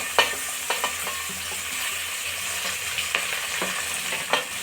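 Onions and tomatoes fry in a pan, making a steady, close sizzle, and occasional stirring scrapes and taps punctuate it every half second or so.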